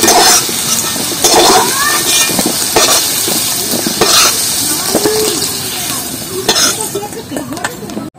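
Pieces of taro (kochu) frying in oil in a pan give a soft sizzle under the scrape and clink of a utensil stirring against the pan, close and fairly loud, with a voice talking over it.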